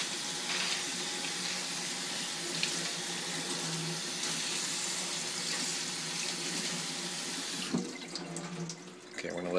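Water runs and drains from a kitchen sink fitted with a garbage disposal, a continuous close splashing gurgle that holds steady before breaking into uneven trickles and a final sucking gulp near the end.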